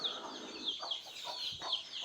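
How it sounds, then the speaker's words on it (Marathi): A brooding hen with chicks clucks softly in short repeated bursts, fairly faint, with a few higher calls mixed in and no talking. "इथे एक बसली कोंबडी इथे एक बसली आहे"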